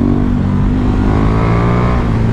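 A KTM Super Duke 1290 R motorcycle engine, loud and close, with a throaty rising rev that swells and eases over a couple of seconds under riding wind noise.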